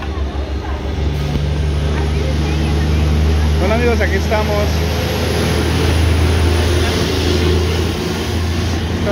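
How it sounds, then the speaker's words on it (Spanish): Steady low rumble of cars and trucks passing over a bridge overhead, heard from underneath as a continuous traffic drone, with someone speaking over it. "Solo que si no se escucha mucho es porque pasan bastantes carros."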